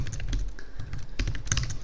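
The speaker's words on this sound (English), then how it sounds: "So excuse my typing," Fingers type on a computer keyboard while someone codes, irregular bursts of close clicky keystrokes with short pauses between runs.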